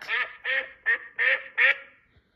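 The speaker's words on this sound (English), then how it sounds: "Duck. Duck." A duck quacks five times in a quick, evenly spaced run of nasal calls, close and clear with nothing else around.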